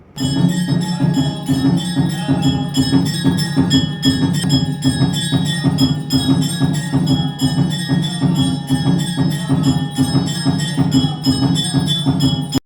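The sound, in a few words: aarti ritual with bells ringing at Shivai Baba Dham temple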